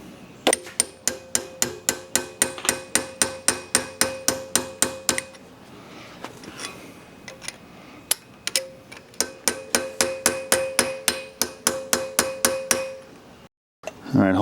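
Hammer and chisel striking the axle nut on a 1976 Jeep CJ-5 Dana 30 front axle, giving two long runs of sharp, ringing metallic clangs at a steady, rapid beat with a brief pause between runs.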